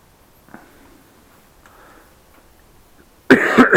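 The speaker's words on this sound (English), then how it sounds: "sorry for the coughing." A single loud cough bursts out near the end after a few seconds of near silence with faint small ticks.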